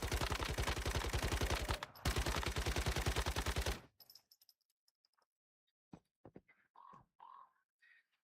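Rapid automatic gunfire in the survival shooter Once Human, two loud machine-gun bursts with a short break between, then quiet with scattered faint clicks and distant pops.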